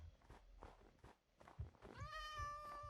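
A cat in the video game Minecraft gives one clear drawn-out meow near the end, preceded by soft footsteps and faint game noises, fairly quiet overall.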